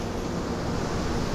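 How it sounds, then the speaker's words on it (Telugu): Sea waves wash steadily on a beach, a continuous broadband rush with no breaks and no voices. "ఆ అలల శబ్దం"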